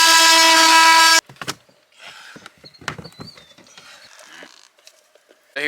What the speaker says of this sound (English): Drilling a hole and putting it in there.